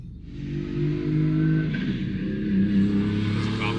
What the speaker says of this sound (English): All right, so FD cars on the street.